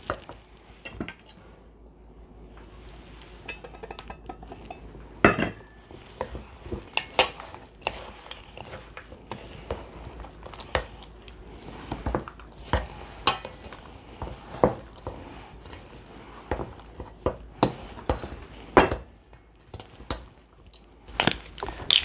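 Quail stuffing mixture being stirred in a bowl, with repeated clinks and scrapes of a utensil against the bowl in an uneven rhythm, close and moderately loud, with no talking.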